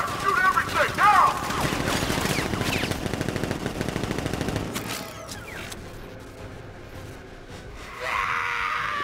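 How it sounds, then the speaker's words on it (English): Video game gunfire from Batman: Arkham Knight: dense rapid machine-gun bursts, loud and close, with shouting mixed in for the first half, then a quieter stretch of scattered mechanical noise before another burst of activity. "Open fire! Shoot everything! Now!"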